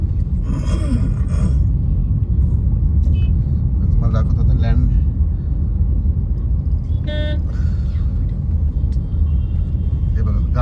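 Cars sit jammed on a road near Navi Mumbai International Airport, a constant low engine rumble with scattered horn toots, while someone talks close by.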